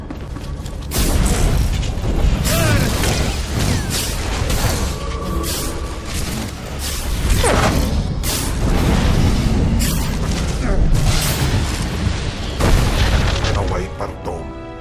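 Hover tanks blow up in the Star Wars: The Old Republic video game, a dense battle din of repeated booms and crashing blasts rolling on without pause for about fifteen seconds, loud and close.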